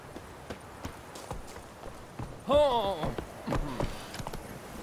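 Regular hoof clip-clops from a horse in the video game Witcher 3 move along over a quiet background, joined midway by a voiced outburst with a rising, wavering pitch.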